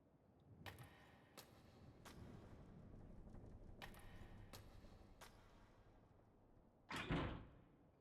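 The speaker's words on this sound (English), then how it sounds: "I hear a noise like something slamming against the door." Something slamming against a door in the horror game Death Mark, a series of repeated hard thuds in an irregular rhythm, ending with a louder, longer bang.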